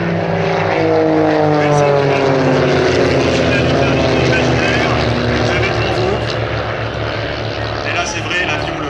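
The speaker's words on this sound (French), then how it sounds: "Vous voyez, les 4 avions arrivent quasiment sur la même ligne." Four propeller airplanes race past together at an air meeting in Cambrai, a loud continuous droning engine roar with shifting tones that holds steady throughout, while a commentator talks over it.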